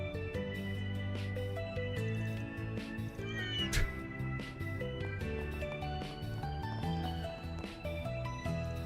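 A cat meows repeatedly in the video game Trails through Daybreak II, drawn-out cries over steady game background music, moderately loud and continuous throughout.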